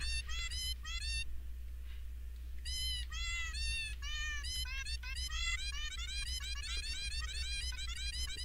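A cartoon cat in an indie video game meows repeatedly in quick, high, rising chirps, clustered in bursts over a low steady hum, loud and close, with no talking.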